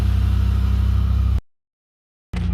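A rebuilt Chevrolet Impala engine runs steadily on a cold start with a low, even idle drone. It cuts to silence for about a second, then the same running engine returns.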